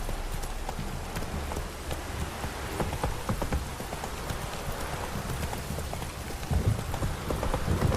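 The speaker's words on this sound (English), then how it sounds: "This downpour's a bastard, it is." A heavy downpour in The Witcher 3 hisses steadily across the whole stretch, with horse hooves clip-clopping through the rain.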